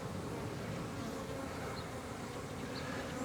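Honey bees swarm at a hive entrance, giving a thick, continuous buzz that stays close and steady for a few seconds with no pauses. No speech is heard.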